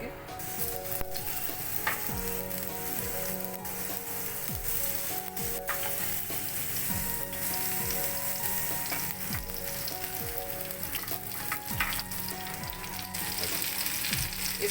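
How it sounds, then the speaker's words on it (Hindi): Brinjal slices shallow frying in oil on a tawa for Bengali begun bhaja, a loud, dense, continuous sizzle that holds steady without a break. "अब हम इनको शैलो फ्राई करेंगे।"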